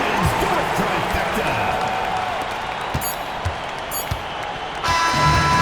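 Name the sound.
home crowd cheering after a three-pointer in NBA 2K26 video game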